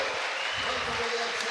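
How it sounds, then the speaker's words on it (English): Crowd at an archery final in Italy cheering and applauding right after a winning shot, a dense steady wash of clapping and shouts with a commentator talking over it. "And the crowd goes wild."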